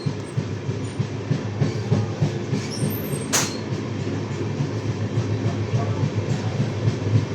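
Howrah–Deoghar weekly express train rolling steadily on rails, a continuous close rumble of wheels with rhythmic clatter and a brief high squeal partway through, no talk.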